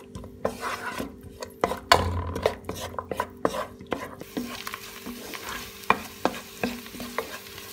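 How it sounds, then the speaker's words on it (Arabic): Garlic fries in a pan with a continuous light sizzle, broken by sharp scrapes and taps as it is stirred. The stirring comes in irregular bursts, loud and close. "بس قليت الثوم بهيدا الشكل"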